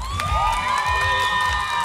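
Shrill shouts and cheers from a packed fair crowd at a girls' dance contest in Tizimín, with high whoops over a steady roar and only light clapping underneath, sustained throughout.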